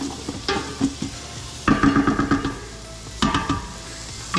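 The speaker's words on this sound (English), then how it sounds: "toasting the garlic a little bit, softening the onions just a little bit" Garlic and onions sauté in a pan for green chili stew, with a utensil stirring and scraping in quick bursts of clatter over a low, steady sizzle.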